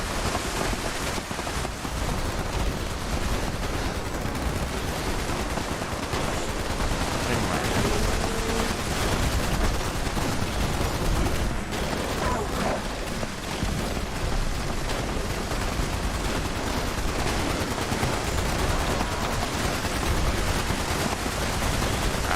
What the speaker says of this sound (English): Those are pretty satisfying weapons to shoot.